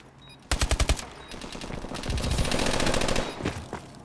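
Gunfire in a competitive MLG Pro League video game match, a loud, rapid automatic burst of shots followed by a longer dense stretch of sustained firing that tapers off with a few final pops.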